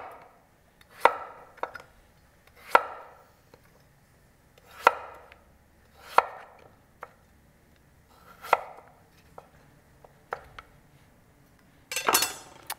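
Butternut squash being sliced with a knife: about eight crisp, separate cuts landing every second or two in a quiet room, each a sharp knock on the board, ending with a brief clatter.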